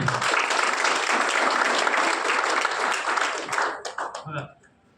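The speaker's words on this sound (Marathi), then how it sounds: "एकदा जोरदार टाळ्या स्वतःसाठी" A crowd bursts into loud, dense applause that holds steady for several seconds, then thins into scattered claps and fades out.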